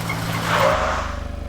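A car brakes hard with a short tyre skid and squeal, then settles to a steady, rhythmic idling engine close by.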